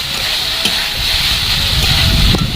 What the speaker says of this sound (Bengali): এই আলুটা পুরোপুরি অপশনাল আলুগুলো এইভাবে নাড়তে নাড়তে কিন্তু সেদ্ধ করে নেব